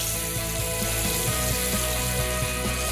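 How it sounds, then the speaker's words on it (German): Meat sears in olive oil in a roasting pan on a stovetop, giving a steady, dense sizzle with faint crackles throughout, close and even, with no talk. "Olivenöl rein und mit dem Knochen nach oben anbraten."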